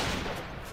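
Continuous rapid gunfire from a weapon in Minecraft, loud and dense for under a second with no talk over it.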